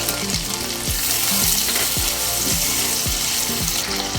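Water poured onto ground ginger, cumin and turmeric frying in a pan for Bengali lau chingri, a loud hissing sizzle with a repeating rhythmic bubbling pulse about every half second, close up.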